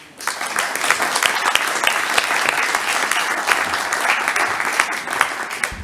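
Members of a town council session in Wattrelos break into applause, a steady, fairly close burst of many hands clapping that starts abruptly and keeps an even intensity throughout.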